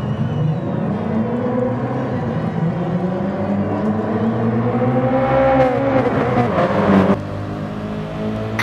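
A pack of race cars revving hard and accelerating off the start line in the GT Sport racing game, a loud layered engine drone rising in pitch with whirring tones, steady throughout and cutting down near the end.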